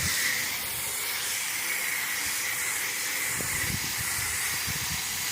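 Steady, loud hissing spray of water rinsing cleaner off an outdoor AC unit, continuous throughout with faint low rustling underneath.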